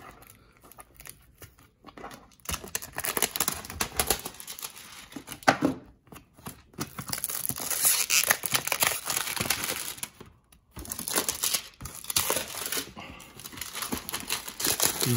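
Plastic shrink wrap being cut and peeled off a Leica Q2 camera box, a run of close crinkling, crackling and tearing bursts with short quiet gaps between them.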